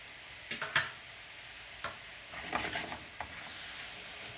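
Pineapple pieces caramelise in a pan at a flambé cooking workshop. A faint sizzle sits under a few sharp clicks and scrapes from the utensil stirring the fruit.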